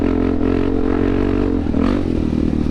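A Suzuki DRZ400 dirt bike ridden on trails and wheelying, its single-cylinder engine droning loud and close with a steady throaty pitch, plus a brief rise in revs and some clatter.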